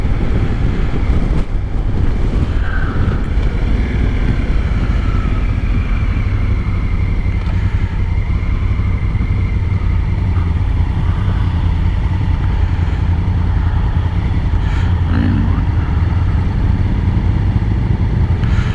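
2019 Honda Africa Twin DCT motorcycle riding with its automatic transmission shifting, a loud continuous engine drone mixed with heavy wind rush, close and sustained with no talk.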